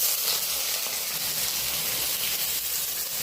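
Potatoes frying in mustard oil in a wok, giving a steady, loud sizzling hiss that continues unbroken throughout with no talking.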